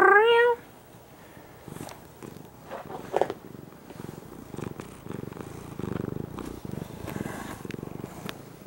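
A shop cat purrs in a steady rumbling rhythm, close and fairly quiet, after a short meow at the start; no one speaks over it.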